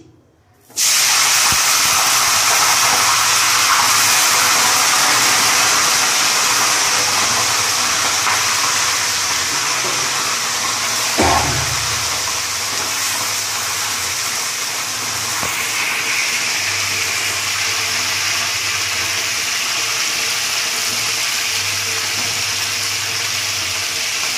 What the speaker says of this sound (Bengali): এদিকে তেল গরম হয়ে গেছে, ফ্লেমটা লো করে কপিগুলো ছেড়ে দিচ্ছি